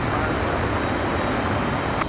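A Delta Boeing 737-800 jet passes at an airport with a steady, broad engine roar that holds constant through the short stretch, moderately loud with a faint voice underneath.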